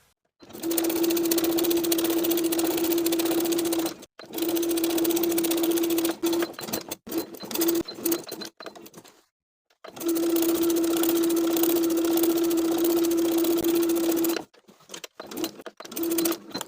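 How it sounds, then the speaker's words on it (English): Sewing machine topstitching around a jeans waistband close to the main seam, running in long steady bursts with short pauses between them, loud and close with no talk. "We're going to top stitch around the entire perimeter of the waistband, close to that bottom main seam"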